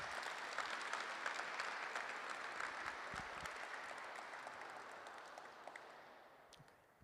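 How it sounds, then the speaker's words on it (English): An audience at an MBA graduation ceremony applauds steadily, a dense patter of many hands from a distance that slowly tapers off toward the end. "So a bit of applause"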